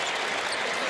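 A basketball crowd cheers and applauds in a dense, steady wash of clapping, with no talk.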